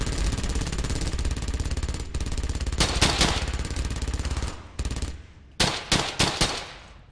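Sustained machine gun fire from an MG in the World War II shooter Brothers in Arms: Hell's Highway, a loud continuous rattling burst for several seconds, then breaking into shorter separate bursts with brief gaps.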